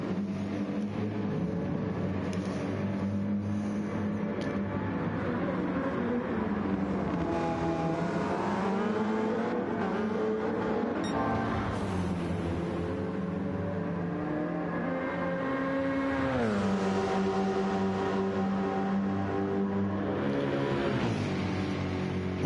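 GT race cars in a Le Mans sim race, including a BMW M6, roar at speed in a steady, continuous engine drone. Revs rise and fall as the cars shift gears and pass, loud and alone with no talking.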